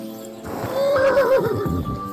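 A horse whinnies loudly and clearly in the video game Kingdom Come: Deliverance 2, a wavering neigh lasting about a second over a steady background of game music and ambience.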